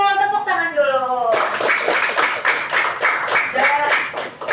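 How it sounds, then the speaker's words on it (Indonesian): A voice speaks briefly, then a group breaks into steady applause, many hands clapping together at close range. "Tepuk tangan dulu"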